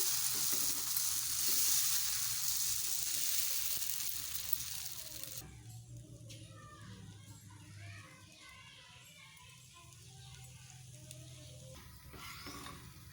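Dosa batter sizzles on a hot griddle pan, a loud broadband hiss at first that drops to a softer, steady crackle with light clicks after about five seconds; no talking.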